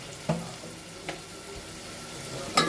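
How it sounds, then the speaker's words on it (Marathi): A phodni tempering for spicy masoor dal sizzles softly in hot oil after a splash of water is added, with a low steady crackle and a few sharper spits and pops. "आपण आता त्याच्यात फोडणीमध्ये थोडं पाणी टाकून घेतलेलं आहे तेल सुटण्यासाठी"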